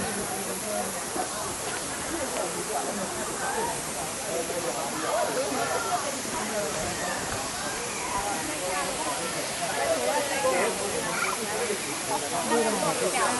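A continuous broad rush of flowing river water at a water park fills the scene, steady and loud, with a voice talking underneath.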